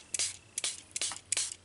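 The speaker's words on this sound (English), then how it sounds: "I'm going to spray it with water" A small hand sprayer mists water over an art journal page in a few short, quiet bursts, several close spritzes in a row with no talking.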